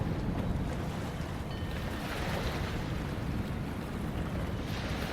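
Ocean waves wash continuously in low light under steady wind noise, a dense, even surf rumble with no distinct breaks and no voice.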